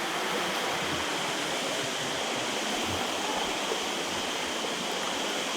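Water pours steadily out of a pipe at a hill dam site, a continuous loud rushing hiss without pause, filling the whole clip with no voices.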